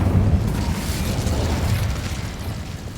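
An Incendio fire spell blast in Hogwarts Legacy, a loud, rumbling burst of fiery energy that carries on with a steady roar for a few seconds.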